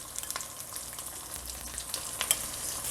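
Potatoes frying with browned onions in a pan for a Mauritian chutney potato dish, producing a soft, steady sizzle with light crackles and faint stirring, fairly close and quiet.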